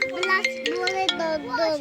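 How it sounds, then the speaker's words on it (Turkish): A mobile phone rings indoors in a village home, its stepped melodic ringtone playing close and loud while children's voices chatter over it. "Benim tabi her zamanki gibi telefonum çalıyor."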